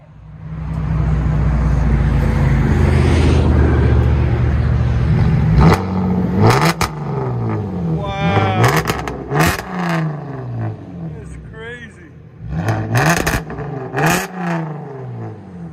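A 2011 Cadillac CTS coupe with a 3.6L V6 and straight-piped dual exhaust idles loudly, then gets blipped in a series of sharp, close revs that rise and fall quickly, each burst followed by a rumbling settle.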